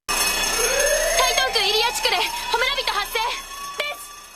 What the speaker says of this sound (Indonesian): Pada momen ini alarm pun berdering, menandakan kemunculan manusia api lainnya di kota.